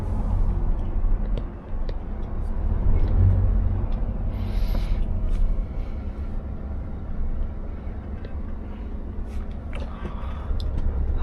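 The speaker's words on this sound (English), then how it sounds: "So let's enjoy rush hour traffic" Rush hour traffic crawling through small Wiltshire towns, heard from inside a Scania 660S V8 truck: a steady low rumble of engines with faint passing vehicle noise, constant and fairly quiet throughout, no speech.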